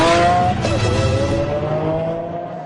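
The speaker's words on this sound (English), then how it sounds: "the prototype model takes to the track to be put through its paces for the first time" A Lamborghini Aventador prototype on a race track in 2008, a loud close engine note with tonal whine shifting in pitch, fading slightly toward the end.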